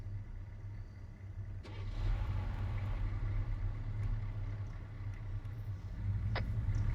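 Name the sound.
vehicle driving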